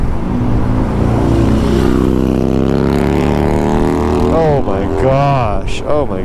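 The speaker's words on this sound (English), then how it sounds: "Let me let this bike go by." A motorcycle passes nearby on a street, its engine droning loudly and rising in pitch, with a voice talking over it near the end.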